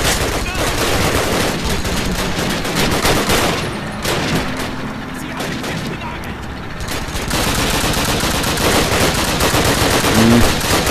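Dense, loud gunfire from a Gewehr 43 semi-automatic rifle in the WWII shooter Call of Duty: United Offensive, set in street fighting, with shots overlapping a constant roar of battle noise throughout.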